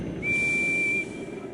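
Gordon the steam engine's whistle from a Thomas & Friends video game: a single clear, steady high-pitched blast lasting under a second, loud and alone over a faint background hiss.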